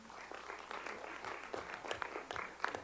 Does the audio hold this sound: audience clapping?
yes